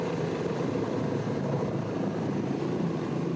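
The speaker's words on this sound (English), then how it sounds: "Paradise Helicopters' Darren Hamilton, our pilot and guide, giving us rare access" A tour helicopter flies over the erupting Mauna Loa volcano in Hawaii before dawn, its steady close rotor and engine drone holding constant and loud throughout, with no voices.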